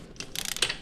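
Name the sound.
ratchet tightening top shock bolt on KTM linkage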